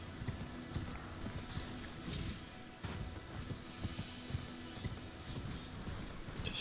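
Steady clip-clop of a mounted boss's horse hooves trotting at a regular rhythm in Elden Ring, fairly close, over a constant low background rumble with occasional clanks.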